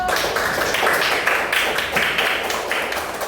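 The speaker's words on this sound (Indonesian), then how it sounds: "Tepuk tangan dulu" Students clapping in an Islamic religious education classroom, a brisk run of roughly rhythmic claps, fairly close and moderately loud, with a faint murmur of voices beneath.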